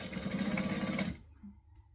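A sewing machine stitches fabric in a fast, even whir of needle strokes for about a second, then stops, leaving quiet room tone.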